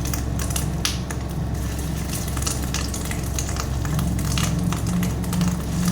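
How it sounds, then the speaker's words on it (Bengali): Fish egg fritters sizzle and crackle steadily in hot oil, a dense, continuous frying hiss close by with no voices. "এবার হাতে ছোট ছোট বড়া তৈরি করে গরম তেল করে ভেজে নেব।"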